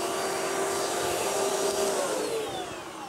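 A Wertheim Powerbrush vacuum cleaner runs at close range with a steady high whine and a broad whooshing hum, holding level before the pitch dips slightly near the end, with no talking.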